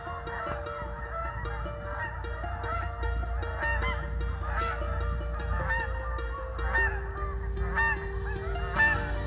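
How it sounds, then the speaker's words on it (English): Thousands of geese honk at once as they land on a farm pond, a dense, continuous chorus of overlapping calls at moderate distance. "That's the sound of thousands of geese landing on the pond"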